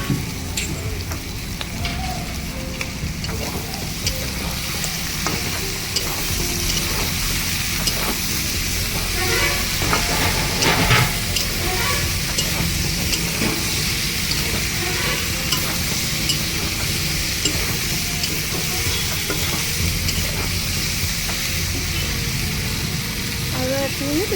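Mixed vegetables with boiled potatoes and egg frying in a pan, a steady broadband sizzle with stirring scrapes running throughout, fairly close, with a voice talking over it.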